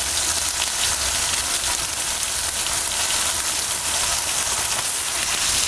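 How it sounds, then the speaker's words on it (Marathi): Ridge gourd dropped into hot oil with tomato in a village-style curry, giving a dense, even, loud sizzle that holds steady like rain throughout. "तेल गरम झालं तर त्यामुळं पटकन मऊ झालेले आहे तर आपण ह्यामध्ये दोडका घालूया"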